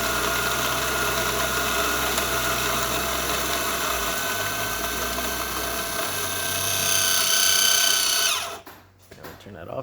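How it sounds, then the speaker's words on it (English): A Baratza Forte coffee grinder churns through a full hopper of beans after a tune-up, a loud, continuous motor whir with gritty grinding texture that rises near the end, then cuts out abruptly as the beans run out. "I'm just going to let the whole hopper grind out."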